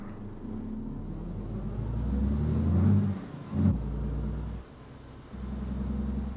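A bus engine in Euro Truck Simulator 2 pulls away from the Esenler bus terminal. A low diesel rumble swells as the bus accelerates, dips between gear changes, then settles back into a steady drone.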